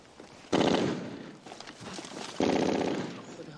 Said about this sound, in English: What the hell are they shooting at?